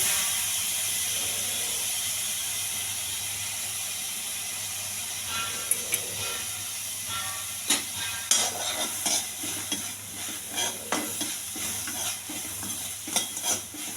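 Coriander and tomato are dry-roasted without oil in a pan for chutney: a faint hiss at first, then repeated scraping stirs and clinks of a spatula against the pan, close and unaccompanied by voices.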